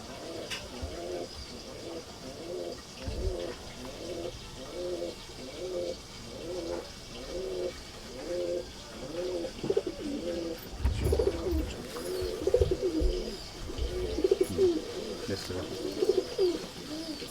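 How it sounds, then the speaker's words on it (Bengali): Male Madrasi pigeons coo repeatedly in soft, rhythmic, rolling phrases, with occasional background noise and brief voices nearby. "নর পায়রা এটা নর পায়রা"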